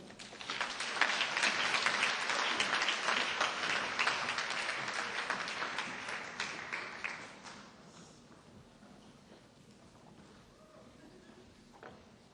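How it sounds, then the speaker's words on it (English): Audience applause fills a room at an awards luncheon honoring youth employees, a dense steady clapping for about seven seconds that then thins to a softer, scattered patter. "Let's give them another big round of applause."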